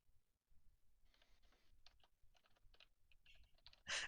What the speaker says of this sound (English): I immediately hear typing.